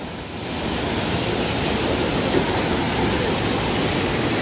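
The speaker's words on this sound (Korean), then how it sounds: "바로 앞에도 이렇게 폭포가 또 있습니다" A waterfall pours steadily in a mountain valley swimming spot, a loud, unbroken roar of rushing water close by that carries on alone without any talk.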